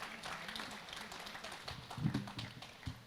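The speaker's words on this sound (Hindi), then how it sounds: "इस्तकबाल कीजिए ज़ोरदार तालियों के साथ।" An audience at a women's mushaira during the Jashn-e-Adab 2023 literary festival applauds to welcome a poet, a moderate, somewhat uneven clatter of clapping with a few voices rising briefly in the middle.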